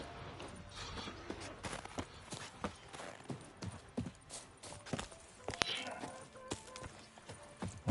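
Horse hooves clip-clopping at a walk in the video game The Witcher 3, irregular close thuds and clops under scattered game sounds and ambience.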